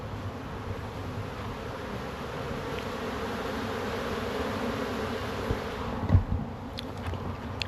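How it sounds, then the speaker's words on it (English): Bumblebees and honeybees buzz around beehives during an oilseed rape honey flow, a steady, dense swarm drone that stays continuous and close throughout, with no voices over it. "Bumblebees, honeybees all over it."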